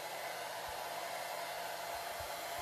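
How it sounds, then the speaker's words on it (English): A hair dryer blows steadily on curtain bangs, a continuous airy roar at moderate level with no talking, holding constant from start to finish. "I'll blow dry them first like this, especially like at the root"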